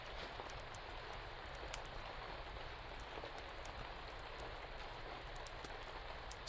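Rain falls steadily on a stormy night, a faint, even hiss of drops on surfaces with scattered soft taps, continuous and uninterrupted, with no voices.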